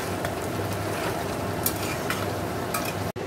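Egg curry with sugar is stir-fried in a pan, giving a steady close sizzle with light scraping clicks from a utensil and a brief dropout near the end.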